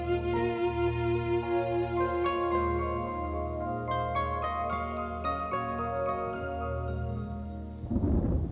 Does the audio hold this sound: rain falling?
yes